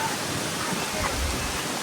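Strong wind roars steadily through trees, a loud, continuous rushing noise with no pauses.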